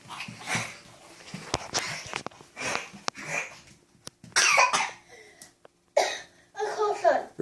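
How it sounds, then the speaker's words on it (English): A child coughs repeatedly in short, scattered bursts at home, mixed with breathy vocal sounds and a few sharp clattering noises nearby. "You're coughing. Are you okay?"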